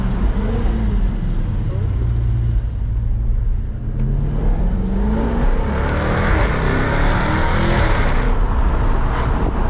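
A 550-horsepower 2017 Jaguar F-Type R AWD engine revs hard and accelerates, a loud sustained roar rising in pitch from inside the cabin, with excited voices talking over it.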